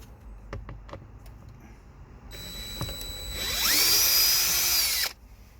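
A power drill undoes glove box screws inside a Vauxhall Corsa, starting with a few faint clicks, then a loud close whine that builds and runs steadily for about two seconds before stopping abruptly.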